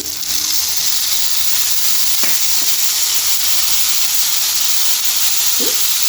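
Green chillies, cumin, coriander and tamarind fry in a pan with a loud, constant close hiss and sizzle, broken by a few brief clinks partway through.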